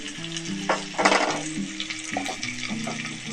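Mixed vegetables stirred in a pan with poppy seed, chilli and cashew paste, giving a steady sizzle with scraping stir sounds beneath background music.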